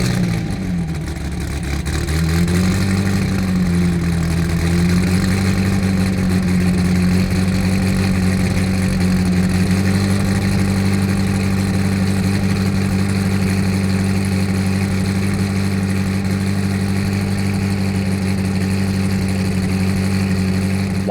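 A steady, loud SSC Tuatara hypercar engine idle drones continuously, with a short rise in revs near the start before it settles back to an even idle.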